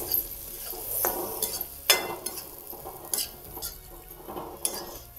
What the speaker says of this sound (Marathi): अशी मिक्स करून घ्यायची।